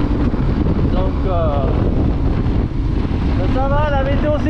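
Strong, steady wind roars and buffets across the microphone while riding along a winding road in Portugal, loud and unbroken throughout, with a voice talking in fragments over it.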